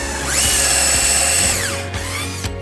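A power drill whirs loudly while countersinking a screw hole in the back of a wooden putter headcover display rack, its motor whine climbing and falling as the bit bores in, with brief pauses and restarts.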